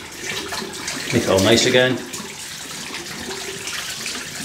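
Tap water running while a razor or shaving gear is rinsed out after a shave, a brief splashing gush in the middle of the clip with someone talking over it.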